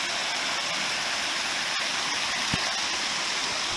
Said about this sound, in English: It was nice sleeping all night listening to the sound of the water.